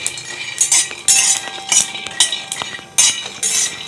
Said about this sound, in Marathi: मी इथे शेंगदाणे घेऊन घेतलेले आहे आणि छानपैकी खरपूस भाजून घ्यायचे